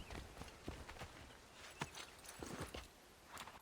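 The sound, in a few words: horse hooves in the video game Assassin's Creed 3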